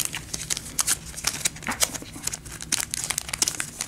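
Crinkly plastic of a Yu-Gi-Oh Phantom Rage booster pack being snipped and pulled open, a steady run of close, sharp rustles and crackles with no voice over them.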